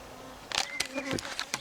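A honey bee buzzes close around a camera outdoors in a short burst of droning whine that rises and falls in pitch as it darts near and away.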